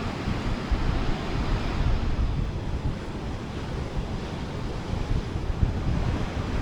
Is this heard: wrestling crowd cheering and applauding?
no